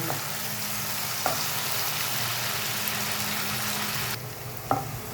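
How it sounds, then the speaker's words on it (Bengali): Onions frying to golden brown for a pepper prawn fry, a steady loud close sizzle with a couple of sharp stirring clacks, the hiss briefly softening near the end. "পেঁয়াজগুলো আমি একটু গোল্ডেন ব্রাউন করে ভেজে নেব।"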